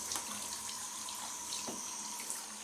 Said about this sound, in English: just have buckets filled.